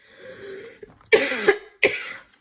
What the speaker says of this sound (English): that bronchitis cough just hangs on and on